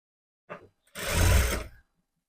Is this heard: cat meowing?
no